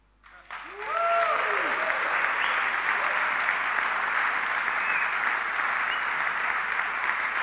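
Audience at a live software premiere event bursting into applause, the clapping swelling in within the first second and holding steady and dense for the rest, with a brief voice at the start.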